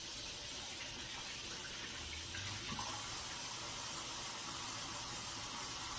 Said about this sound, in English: Let me rinse my hands and stir it through